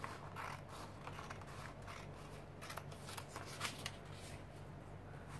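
Scissors trimming excess paper from an art journal made from an old calendar, a faint run of crisp snips and rustles close by, steady with brief pauses.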